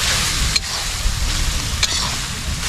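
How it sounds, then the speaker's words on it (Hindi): Mutton frying in a pan with ginger-garlic paste and chilies sizzles loudly and steadily, with a few scraping stirs punctuating the continuous crackle. "इसमें अदरक और लहसुन का पेस्ट और मिर्चें हमने मिक्स कर ली हैं, और इसको थोड़ी देर हम और भून लेते हैं अच्छे से"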